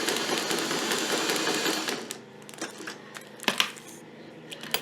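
A sewing machine stitches along the petal lines of a crazy quilt block, a fast continuous whirring that slows into short bursts of a few stitches, with small clicks between them.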